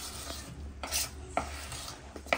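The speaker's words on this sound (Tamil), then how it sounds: "இப்போ இதையும் சளிச்சுட்டு மிக்ஸ் பண்ணிக்க வேண்டியதான்." Plum cake batter for a Christmas cake is stirred in one direction, giving a few soft scraping, rasping strokes of a spoon against the bowl in an uneven rhythm, close up, with no talking.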